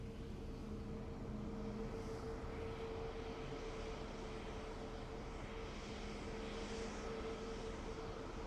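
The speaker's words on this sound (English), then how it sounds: "we've our A320 coming in from Brussels from Aer Lingus next." Aer Lingus Airbus A320 arriving from Brussels at Dublin Airport, a faint, steady distant jet drone with a faint tonal whine running through it, no talk.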